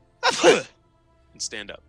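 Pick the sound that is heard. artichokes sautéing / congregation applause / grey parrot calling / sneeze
sneeze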